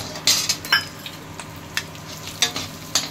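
Whole spices (bay leaf, cloves, cardamom, dried red chillies and coriander seeds) sizzle in hot oil in a pan, with a steady fry broken by several sharp spoon scrapes and clinks of stirring, close and moderately loud.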